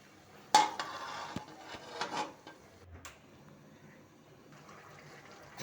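Mixed vegetable curry stirred in a pot with a spoon: a sharp clank of metal on the pot rim, then a few scraping knocks, quieting to soft, sparse contact sounds, fairly close and with no talking.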